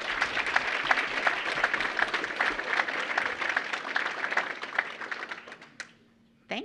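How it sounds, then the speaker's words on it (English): An audience at a school singing-day event claps in a sustained round of applause, individual claps audible as crisp taps, fading out toward the end before a brief pause. "Let's give him a round of applause."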